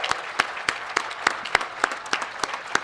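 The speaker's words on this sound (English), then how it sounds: "let's give them a round of applause" An outdoor commencement audience at a Bloomfield College baccalaureate gives a round of applause for the graduates' families, with distinct, fairly sparse claps in a steady rhythm, close and moderately loud.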